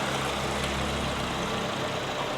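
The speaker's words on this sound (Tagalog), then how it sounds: "Matining yung makina." A 2024 MG5 with a 1.5-liter engine, manual transmission, idling in a steady low hum, fairly quiet and even with no voices.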